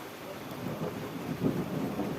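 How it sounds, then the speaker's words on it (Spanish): Steady rain falling outdoors in a rural countryside setting, a soft continuous wash of patter with a low rumble underneath, moderately faint and unbroken for a couple of seconds with no voices. "Está lloviendo"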